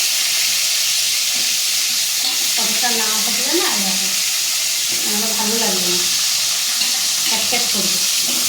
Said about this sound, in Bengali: এইবারে আমি পটলটা দিয়ে দেবো, পটলটা ভাজবো লাল লাল করে।